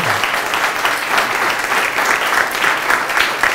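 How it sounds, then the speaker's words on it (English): An audience claps steadily and fairly loudly, a dense wash of applause that continues throughout without pause. "I'd like to give you guys a round of applause."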